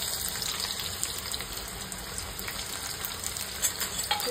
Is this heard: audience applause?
no